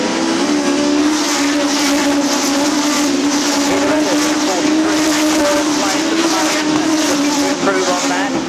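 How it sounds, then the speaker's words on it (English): Stock cars roar off together at Arlington Stadium for the Sussex Championship, a dense, loud, continuous engine drone with shifting revs that holds steady throughout, with a commentator's voice underneath. "away go the cars for the Sussex Championship"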